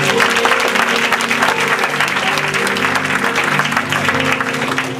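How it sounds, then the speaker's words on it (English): A church congregation gives a dense, loud round of applause, with sustained crowd clapping filling the whole stretch and some faint voices under it. "Give her a big hand of applause."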